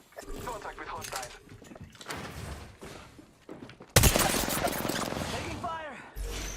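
Gunfire in the battle royale game Apex Legends erupts as a loud, dense burst partway through, after quieter scattered game noises, with in-game voice lines heard throughout.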